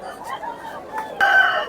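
A Sipai rooster crows at the Gokavaram market, a loud, strained call rising near the end over the murmur of bargaining voices and nearby clucking.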